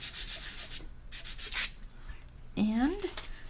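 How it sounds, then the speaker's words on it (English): Orbital sanding of a paper or card surface, round and round, gives a series of soft, breathy rubbing bursts, fairly close, followed by a brief voice near the end. "with this kind of orbital sand, round and round"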